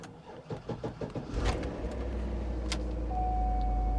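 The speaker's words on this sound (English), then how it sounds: "Fired right up." A Mercedes G550 G-Wagon engine cranks and starts, then settles into a steady, close idle that continues to the end. A faint whine runs over the idle.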